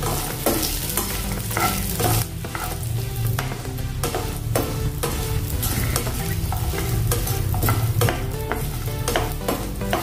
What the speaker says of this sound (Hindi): आधा मिनट इसको हम भूनेंगे नारियल को